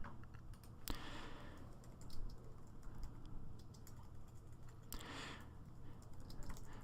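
Typing on a computer keyboard while entering a role name in print server software, a quiet steady patter of key clicks over a low background hum with two sharper clicks standing out.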